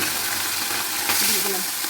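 Small chuno fish coated in salt and turmeric fry in hot oil, giving a dense, continuous crackling sizzle with a brief stirring scrape midway.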